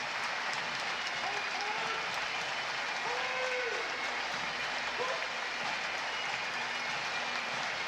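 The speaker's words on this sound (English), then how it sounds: "when the applause is loudest" Steady outdoor applause from a large crowd at a Saskatoon Remembrance Day parade greets marching veterans, continuous and fairly loud throughout with occasional faint calls over the clapping.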